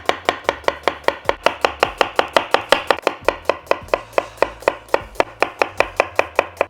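A knife slices onions on a cutting board for a melted-onion holiday side dish, making a steady, close rhythm of about four sharp chops per second with no talking.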